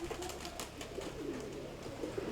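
Pigeons cooing in low, soft murmurs, faint and fairly steady, with no voices over them.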